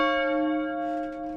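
A single church bell sound effect in the game Football Manager 2023 rings out and sustains with a clear, shimmering tone that slowly fades.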